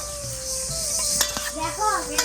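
Fish and potato-stem curry with tomato is stirred in a cooking pot, with a spoon scraping and clinking against the metal in a few sharp knocks over a soft background hiss, heard close up.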